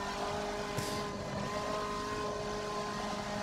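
Race car engine in Forza Motorsport 7 droning steadily at a constant pitch, a sustained mechanical whine with no breaks across the whole stretch.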